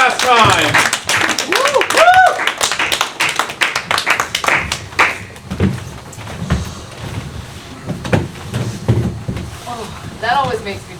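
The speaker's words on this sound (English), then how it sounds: "Please, give a round of applause" Audience applause at a one-year anniversary show by a theater group, loud clapping mixed with cheers and chatter that swell at the start, then thin into scattered claps and talk.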